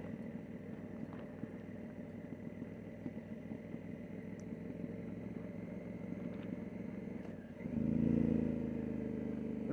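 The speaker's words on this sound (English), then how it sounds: "I just dropped it down into 1st gear there, coming down this hill to see what the engine braking like" A 2018 Honda Africa Twin Adventure Sports motorcycle engine drones steadily at low revs while engine braking downhill in first gear, then the note shifts and rises slightly near the end as the gearing changes; no voices.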